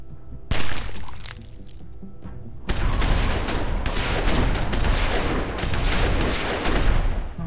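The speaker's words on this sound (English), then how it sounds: "Oh my, who are they shooting?" Sustained gunfire in The Walking Dead Season 2 video game: a sharp opening shot, then from about a third of the way in a dense, loud volley of overlapping rapid shots and cracks that continues to the end.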